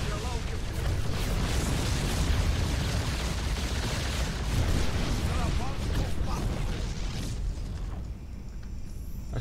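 Dense, continuous battle noise from StarCraft 2: Wings of Liberty, with rolling explosions and rapid gunfire packed into a loud, unbroken roar that eases slightly near the end.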